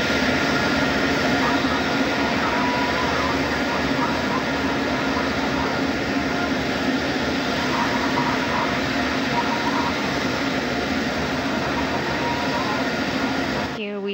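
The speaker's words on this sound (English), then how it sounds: "a beautifully executed landing on the shuttle carrier aircraft with Endeavour strapped to its top" Shuttle carrier aircraft with Space Shuttle Endeavour strapped on top, landing at Ellington Field in Houston, its jet engines giving a steady, loud roar that rolls on evenly throughout.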